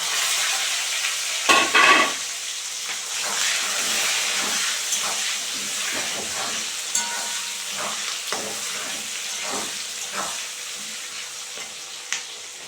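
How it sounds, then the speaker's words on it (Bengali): Sliced onions frying in oil in a pan for a chicken dish, a continuous close sizzle and hiss with occasional stirring scrapes, steady throughout. "এখন আমি ফালি করে পেঁয়াজগুলো একটু ভেজে নেব।"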